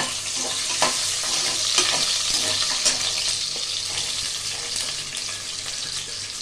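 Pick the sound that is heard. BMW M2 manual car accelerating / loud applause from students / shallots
shallots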